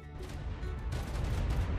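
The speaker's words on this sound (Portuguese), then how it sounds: "Eita, velho, explosão." Explosion in the video game ARK Primal Fear: a dense, loud rumbling boom with crackling bursts that swells and stays sustained for the full moment, heard alone without talk.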